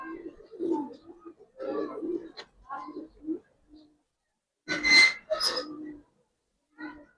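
Pigeons at a pigeon seller's place coo in short, low, throaty bursts separated by brief silences, close and fairly clear, with a louder, harsher burst near the end.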